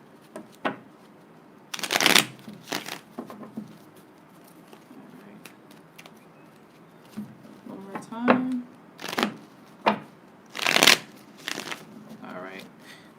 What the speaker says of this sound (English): A couple more shuffles and then I'll begin.